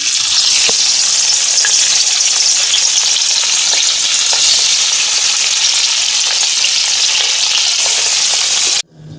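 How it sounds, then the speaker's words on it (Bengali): Hilsa fish pieces fry in hot mustard oil with a loud, steady, close sizzle and crackle that runs unbroken for about nine seconds, then cuts off abruptly at the end. No voices are heard. "আমি মাছগুলো এবার ভেজে নিচ্ছি"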